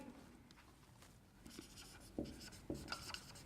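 A marker writes on a board in short scratchy strokes, faint and close, with a few sharper taps as words are formed.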